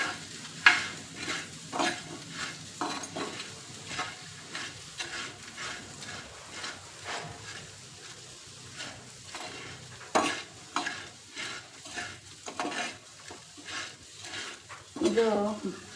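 Mutton chops fry in a pan, soft sizzling running under repeated scraping stirs and occasional clinks of a spoon against the metal, fairly quiet and close.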